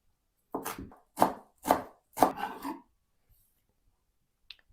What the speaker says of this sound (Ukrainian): До яєць наріжу невеликий пучок кропу.